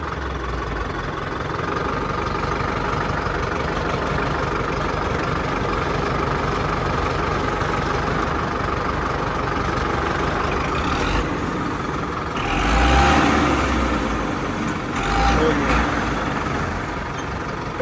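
A tractor engine runs steadily nearby with a rumbling idle, revving up briefly twice near the end before settling back.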